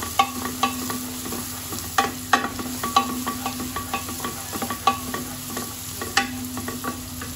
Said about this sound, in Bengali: পেঁয়াজটাকে আমি হালকা একটু ব্রাউন কালার করে ভেজে নিব